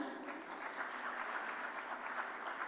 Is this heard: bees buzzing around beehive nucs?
no